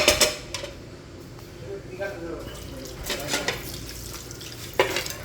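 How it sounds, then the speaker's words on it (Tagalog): Plates, pots and cutlery clatter and scrape during washing up at a restaurant's eating area, with intermittent clinks and water noise, some sharper knocks near the start and end, under background voices. "maghugas na tayo ng plato"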